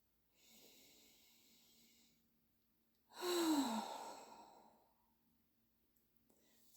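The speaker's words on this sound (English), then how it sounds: "And take a deep breath." A slow, deep breath drawn in softly, then a louder, breathy sigh-like exhale with a faint hum in the voice, close and quiet with no speech.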